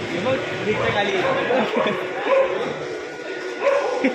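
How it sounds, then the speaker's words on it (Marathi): Several dogs yelp, bark and whine in a restless, overlapping chatter, fairly close, at a crowded Ganesh idol workshop in Parel, with people talking over them throughout. "भाई डेंजर कुत्रे आहेत."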